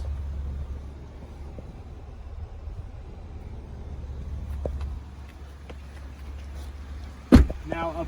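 The power trunk of a 2018 Cadillac XT5 closes by itself: a faint low motor hum and light clicks, ending in a single sharp thud as it shuts.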